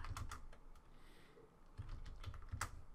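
Computer keyboard typing during furniture layout work in design software, with irregular bursts of keystrokes close by at moderate level and short pauses between them.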